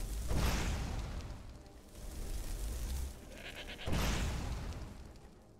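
Goat bleats in Skyrim, two loud bursts about three seconds apart over a low in-game ambient rumble.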